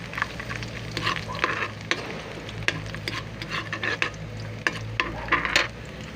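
Minced garlic sizzles in a little cooking oil in a pan for garlic shrimp, a steady close crackle and hiss punctuated by repeated scraping clinks of a utensil stirring against the pan.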